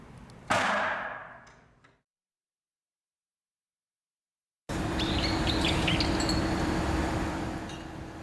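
Birds chirp on a weekend morning with sharp, bright calls that fade out. After a silent gap, a denser outdoor chorus of tweets returns over steady ambient noise.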